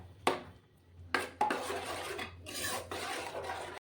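Semolina being stirred in a pan with a utensil, giving scraping, rasping strokes in several bursts, close and fairly quiet, with no talking.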